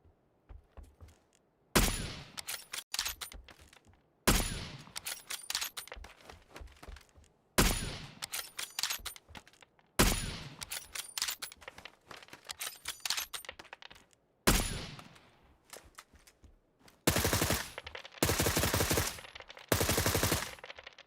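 Shotgun gunfire in PUBG rings out in a series of sharp, loud blasts, each followed by a decaying tail, spaced every few seconds, with bursts of rapid fire near the end.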